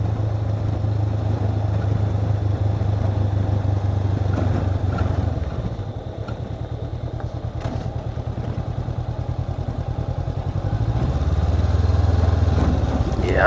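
An adventure motorcycle rides along a bumpy road in Thailand, its engine droning steadily with a dip and rise in pitch as it slows and then accelerates, and wind rumble and clatter run throughout.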